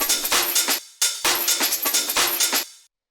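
A breakbeat drum loop with added hi-hat and clap hits: punchy kicks and crisp snare-like claps in a busy, tight rhythm, bright and loud, stopping abruptly at the end.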